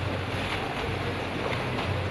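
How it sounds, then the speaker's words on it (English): Waves churned up artificially on a film set for a tsunami scene, with a barrel pumped up and down to drive the water, making a steady, loud rush of sloshing water and wind-like noise throughout, with no voices. "creating the waves"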